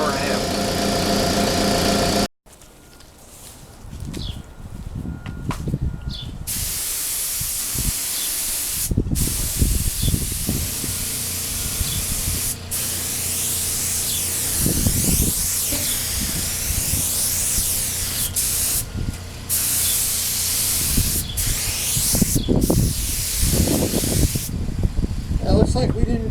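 A spray gun hisses in long bursts while laying two-part clear coat onto a Honda NS250R motorcycle fairing outdoors, with short pauses between passes, wind noise and an engine-like hum behind it.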